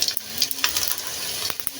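Raw cumin seeds frying in hot oil with already-fried onion and chili, a steady close sizzle with a few sharp crackles and pops near the end, no talking.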